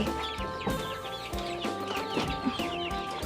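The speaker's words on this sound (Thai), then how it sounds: "อยู่บ้านเลี้ยงไก่ ไก่นี่คือไม่ใช่น้อยๆเลยนะคะ" A flock of around two hundred chickens on a home farm clucks busily and close up, with overlapping calls in a continuous, lively chatter.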